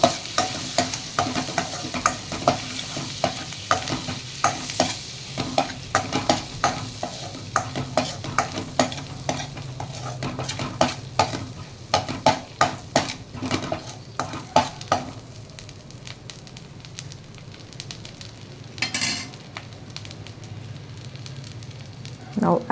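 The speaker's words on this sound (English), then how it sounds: "Once the butter gets melted, add 1 bay leaf and 1 teaspoon cumin seed and mix it well." Butter with a bay leaf and cumin seeds frying in a pan, a busy crackling sizzle with rapid repeated spatula scrapes and clacks for most of the time, then a calmer steady sizzle toward the end, close up.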